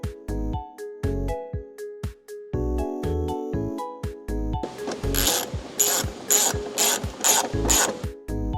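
Ratchet wrench tightening fender screws on a crashed BMW X5 M50 under repair: sharp, close clicks in quick bursts, first spaced strokes, then a busier run of loud, bright clicking with metallic ringing, no talking.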